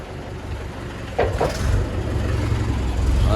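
A tractor engine runs at a brick kiln near Delhi, giving a steady, low, throaty rumble that grows slightly heavier partway through, with brief voices over it.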